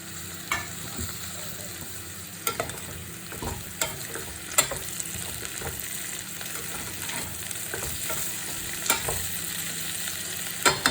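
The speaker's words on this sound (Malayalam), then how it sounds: "ഇനി നമുക്ക് തക്കാളി ഇട്ട് കൊടുക്കാം" Tomatoes go into a pan of potato stew that is frying, with a steady soft sizzle and scattered sharp clinks and scrapes of stirring, close by, with no talking.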